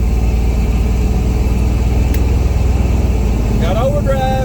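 The engine of a 1990 Chevy K1500 pickup runs in third gear while driving, a loud, steady, close rumble with a regular pulsing beat inside the cab, and a voice speaks briefly near the end.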